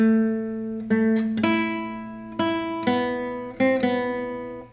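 Guitar plays a phrase of the Scarborough Fair melody as about seven single plucked notes that ring and decay between picks, slow, clean and close, with no voice.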